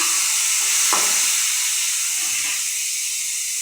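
Tomatoes sizzle in hot oil for a fish curry, giving a loud, steady frying hiss close by, with a few stirring scrapes.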